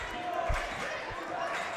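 Basketball crowd at a varsity game cheering for the Comets, a steady roar of voices in a gym with a commentator talking over it and a ball bounce or two audible.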